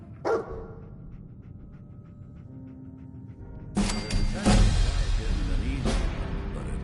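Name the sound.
dog Dogmeat barking in video game Fallout 4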